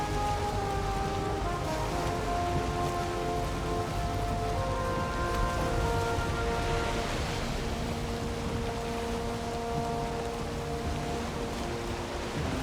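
Stormy nighttime rain at sea in Valheim pours steadily and densely for the whole stretch, a constant hiss with faint tonal wind or sea ambience beneath and no voices.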